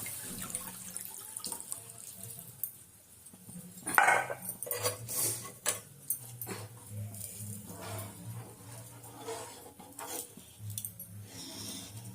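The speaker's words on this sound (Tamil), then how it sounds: "புளி வந்து வடிகட்டி வச்சிருக்கிற அதை ஊற்றிக்கலாம்." Strained tamarind water pours and splashes into a pot of fish curry, with kitchen clatter and a low simmering hiss throughout.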